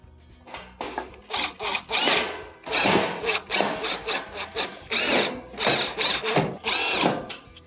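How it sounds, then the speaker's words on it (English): A powered screwdriver drives screws back into a Samsung electric stove during a single radiant element repair, sounding in short loud whirring bursts, one after another, close up with brief pauses between. "Go around the perimeter, replace your screws."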